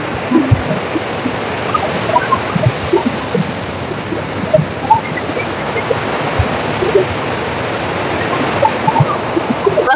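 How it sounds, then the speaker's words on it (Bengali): Large waves churning on river water during a Biswakarma puja outing, a dense continuous rushing and splashing roar, loud and close, with no talk. "মানে একদম নিচের মতন লাগছে, সমুদ্রের মতন। দেখি বিরাট ঢেউ ঢেউ লাগছে।"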